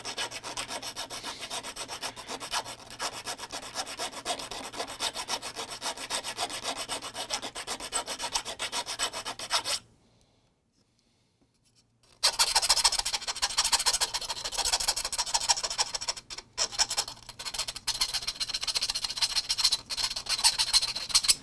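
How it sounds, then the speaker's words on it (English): A deburring tool scrapes and rubs around drilled holes in a metal server case, a close, harsh grinding rasp that runs steadily, breaks off into about two seconds of silence, then resumes just as loud. "Always deburr your holes."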